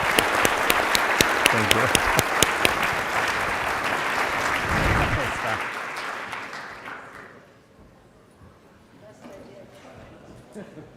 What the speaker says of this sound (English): Let's have a round of applause for all of you.